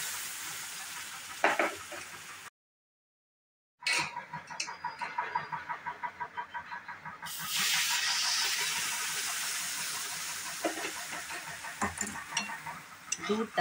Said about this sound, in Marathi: मग ह्याच्यात उकळलेलं दूध थोडं थोडं करून घालायचं आहे